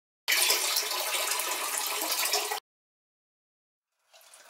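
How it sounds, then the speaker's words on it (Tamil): Water pours in a steady rushing stream into a cooking pot for about two seconds, stops, then a second, softer pour begins. "அப்புறம் தண்ணி சேர்த்துக்கோங்க."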